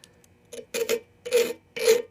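Masking tape being trimmed off a freshly painted South Bend lathe part, four short rasping strips close up, each a quick scratchy tear with brief pauses between.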